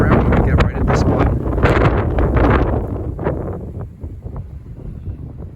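Strong wind buffets the microphone outdoors at a metal detecting site, a loud continuous roar with gusty rustling that eases somewhat toward the end.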